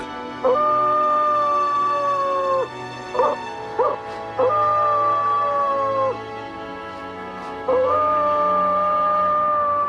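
Coyote howling in Yellowstone, with long sustained howls separated by shorter yips and broken calls, clear and fairly close over a quiet background.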